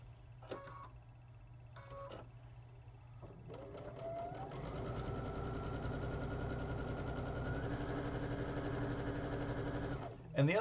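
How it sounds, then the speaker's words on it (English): Sewing machine running steadily for about six seconds while stitching the other side of a graduation quilt, after a few short starts and stops, with a faint low hum throughout. "and just sew the other side."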